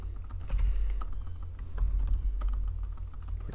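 Rapid typing on a computer keyboard at a desk, a steady run of close, clattering keystrokes over a low background hum, with no voices.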